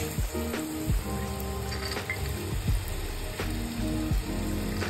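Soaked chana dal is stirred into sizzling oily masala for a drumstick curry, giving a steady close crackle and sizzle with repeated scraping strokes of a spoon against the pan.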